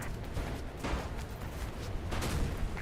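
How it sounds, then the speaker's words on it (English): Muffled gunfire in the video game Mirror's Edge crackles in the distance under a dense, noisy background rumble, with several dull bursts scattered over a few seconds. "I can hear gunshots"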